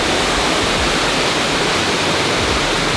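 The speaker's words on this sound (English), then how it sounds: "There's like some more water that's falling literally right here." Water pours down a waterfall in Nikko, Japan, making a loud, steady, unbroken roar with no voices over it.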